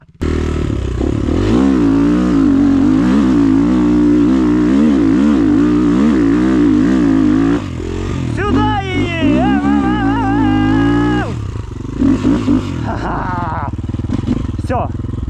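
A Rottor Nemesis 250 motorcycle engine drones and revs loudly up close, its pitch wavering as the rider works the throttle, then a sharp high-pitched rise and a brief drop during a drift, with voices talking over it.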